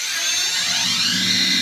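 Steady electric drill whine with a buzzing hum, loud and continuous, picked up through a cigar box guitar pickup with no talking.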